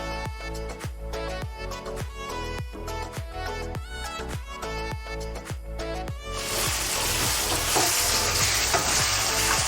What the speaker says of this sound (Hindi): इसे हम अच्छी तरीके से हिला रहे हैं ताकि अभी ये गोश्त जो है वो थोड़ा पानी छोड़ेगा।